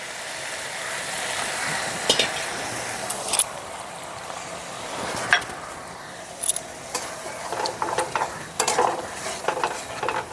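Ground mustard paste and a little water are added to a pan of okra cooking on the stove, setting off a fizzing sizzle with scattered clinks and stirring scrapes, close and moderately loud, with no talk.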